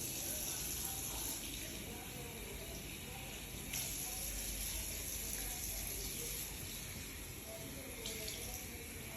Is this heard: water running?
yes